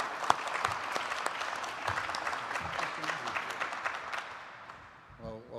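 An audience at a medical isotope announcement in Ontario applauding to welcome the premier to the stage, steady close clapping that fades toward the end as a voice begins to speak.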